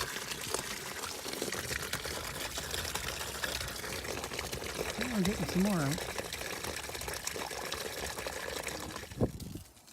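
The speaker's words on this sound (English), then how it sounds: "I'm just going to run the water into the rad and flush out whatever I can." Water runs steadily with a continuous splashing gush into the radiator of a 2003 Cadillac CTS during a flush, while someone speaks briefly over it.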